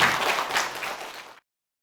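Brief burst of audience applause at a Buddhist dharma meeting in Gwangju, dense clapping from a hall crowd that fades out within about a second and a half, no voices over it.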